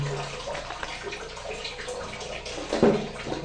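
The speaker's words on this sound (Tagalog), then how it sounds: "malakas ang tubig ngayon" Water running steadily into a bucket, a continuous splashing rush that swells louder near the end.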